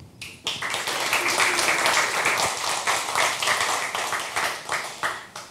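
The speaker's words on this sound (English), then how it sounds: "Please give him an applause and welcome him." Applause from a conference audience in a lecture hall welcoming a speaker at an open-source event, starting abruptly and continuing as a steady wash of clapping that gradually thins toward the end.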